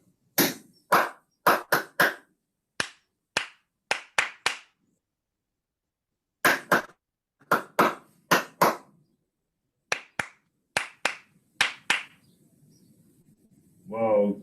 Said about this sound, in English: I'll clap a rhythm and you clap it back.